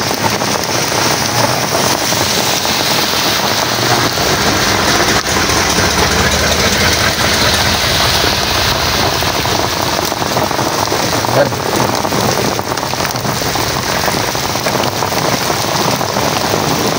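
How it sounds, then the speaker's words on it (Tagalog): Heavy rain pours onto surfaces in Memphis, a dense, loud, unbroken hiss with a faint engine idling underneath, steady for the whole stretch. "napakalakas ng ulan dito sa Memphis, sa bayang Dallas"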